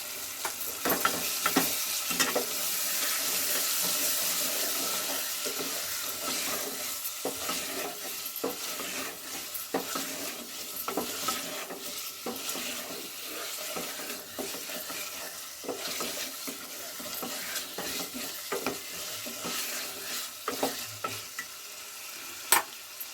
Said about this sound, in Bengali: এবার আদা ও রসুন বাটার সঙ্গেও আবারও ভালো করে কষাবো